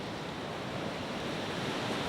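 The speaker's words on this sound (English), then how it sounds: "It's really spectacular with the rocks in front and the ocean lapping up over them." Ocean waves lapping over rocks below a cliffside at Howick, a dense, continuous roar of surf with steady intensity, with a little wind buffeting the microphone.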